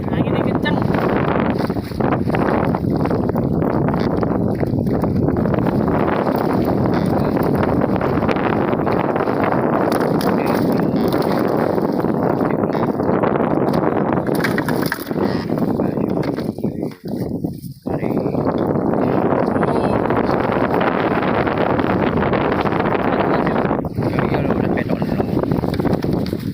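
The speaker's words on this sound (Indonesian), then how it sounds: "Anginnya kencang." Strong wind at sea buffets the microphone on a boat while fish traps are being hauled up, making a loud, steady roar that fills the whole stretch with only brief dips.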